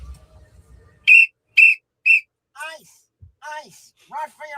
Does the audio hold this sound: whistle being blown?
yes